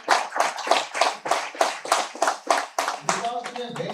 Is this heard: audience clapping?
yes